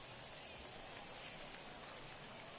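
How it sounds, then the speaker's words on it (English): Steady rain pouring over a baseball field in MLB The Show 21, a constant hiss of falling drops with no breaks, heard alone without voices. "I don't know how much more rain this field can take"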